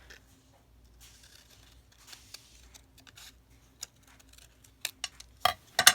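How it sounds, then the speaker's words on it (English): Sharp, sporadic snips build up near the end, scissors slicing through paper in a few quick cuts after quieter rustling. "Grab out my scissors here."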